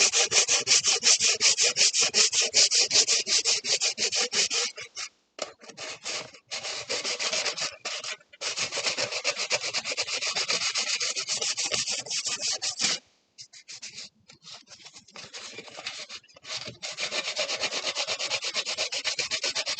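Steady abrasive rubbing of sanding leftover glue off a piece of armour, continuous and fairly close, with a few brief pauses between strokes.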